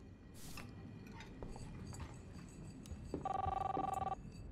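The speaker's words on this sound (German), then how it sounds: "Ich will ans Telefon gehen." Telephone in Life is Strange gameplay rings once with a loud, bright electronic trill near the end, after quiet clinking and ambient room noise.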